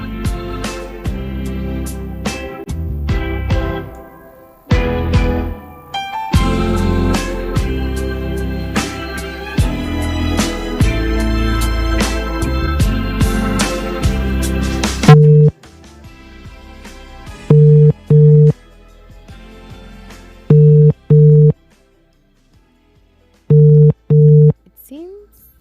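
An outgoing phone call rings unanswered, with repeated paired ringback tones in evenly spaced pulses, loud and close, preceded by a long stretch of busy background music.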